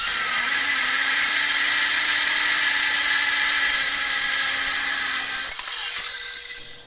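A metal-cutting saw bites through steel for a Farmall M tractor wide-front upgrade, producing a loud continuous high whine that holds steady, then drops off abruptly near the end as the cut finishes.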